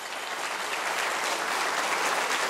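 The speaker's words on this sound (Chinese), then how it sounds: "我们给他掌声鼓励一下吧" Audience applause at a year-end address by the Chiayi County magistrate, welcoming a hospital director: dense, steady clapping from a large crowd filling the whole stretch at even loudness, with no talk over it.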